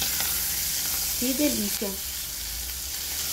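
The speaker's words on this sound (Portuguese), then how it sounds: "Vou deixar fritar mais um pouco aqui, quero que fritar bem." Bacon sizzles and crackles steadily in a pan, a constant close frying hiss, while someone speaks briefly over it.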